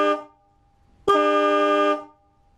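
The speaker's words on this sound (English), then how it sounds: "Anyways, Stebel horn." Stebel Nautilus Compact truck air horn fitted to a 2013 Jeep JKU blasts twice close by, first a short toot, then a loud sustained blare of nearly a second that cuts off abruptly.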